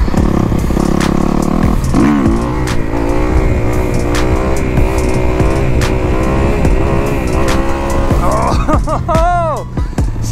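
A dirt bike engine revving loud and close during wheelie practice, repeatedly climbing and dropping in pitch with sharp throttle blips and a final high surge, with a voice talking partway through.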